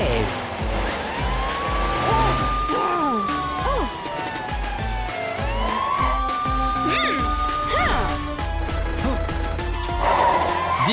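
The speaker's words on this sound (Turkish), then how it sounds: "işte polis arabası Matilda Krokomil'i kovalıyor" A cartoon police car siren wails in long rising and falling sweeps, loud and close, over a busy animated soundtrack with music and other effects.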